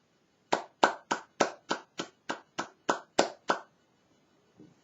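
Eleven sharp hand claps in a quick, even rhythm, close and crisp, followed by a brief pause and a faint soft sound.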